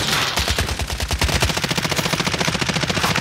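Rapid automatic gunfire in Call of Duty Warzone, a dense, loud, continuous burst of rattling shots that keeps up through the whole moment.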